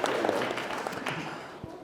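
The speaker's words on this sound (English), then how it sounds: "Let's give her a little hand of applause, a little round of applause" A small wedding ceremony crowd claps for Miss Addie in a brief, dense burst that fades over a couple of seconds, with voices mixed in.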